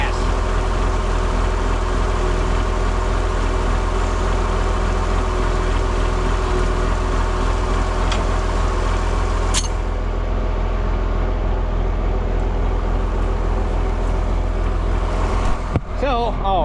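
A 1955 tractor's diesel engine running after an injection pump rebuild, a loud, steady low rumble throughout, with brief clunks near the end.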